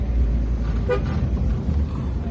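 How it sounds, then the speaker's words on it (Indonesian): A single short car horn toot at a road bend sounds over steady engine rumble and road noise, fairly close, on a drive toward a mountain. "Jadi tiap tikungan harus klakson guys."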